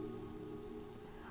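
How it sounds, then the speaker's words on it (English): Steady rain in the retro-style video game The Way makes a quiet, continuous hiss over a soft low drone, brief and unbroken, with no one speaking. "Still raining."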